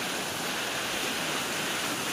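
Floodwater released from the Maithon Panchayat dam pours across a field, a steady, dense rushing roar of flowing water that stays loud and unbroken throughout, with no voices.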